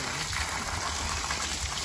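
Water gushes and splashes continuously as people wash their faces, a steady rushing flow that is near and fairly loud, with no talk over it.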